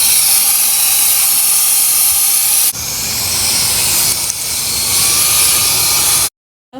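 A Roedix Mini Duster electric blower runs at high speed with a loud, steady hiss of rushing air, briefly dipping in pitch partway through before shutting off abruptly near the end.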